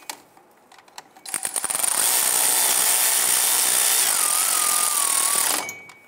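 A power tool runs tightening a nut on the starter of a 2002-2008 Dodge Ram 1500, starting with a few clicks, then a loud, steady whine held for about four seconds before winding down.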